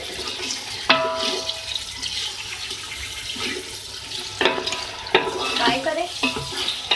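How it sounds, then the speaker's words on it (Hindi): Ginger garlic paste fried in a pot for chicken pulao, giving a low sizzle under several sharp scraping stirs of a spoon, heard up close with no talking. "तीन खाने के चमचे अदरक लहसुन का पेस्ट मैं ऐड कर रही हूँ। इसको भी फ्राई करेंगे इसके साथ।"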